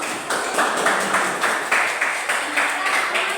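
A classroom of students gives rhythmic group clapping, a steady patter of bursts running throughout at moderate loudness without pause.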